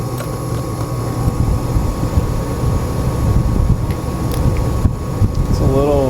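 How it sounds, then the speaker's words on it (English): A Rheem gas furnace's blower runs in a steady, loud broadband rumble and whoosh of moving air, heard close up with a few faint clicks over it. "Let's look at that flame when that blower comes on though."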